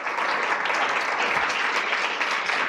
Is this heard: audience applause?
yes